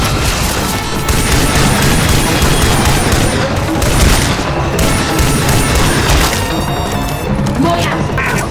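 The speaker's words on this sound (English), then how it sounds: "This'll blow something up." Explosion and gunfire in the zombie shooter Left 4 Dead 2, a loud continuous barrage of rapid shots and cracking booms with a voice speaking over the chaos.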